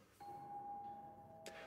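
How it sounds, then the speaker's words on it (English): A doorbell rings inside a horror video game, a single clear sustained electronic tone ringing for over a second, then a soft clicking sound, all quiet with no speech. "Is that a doorbell? Is that the front door?"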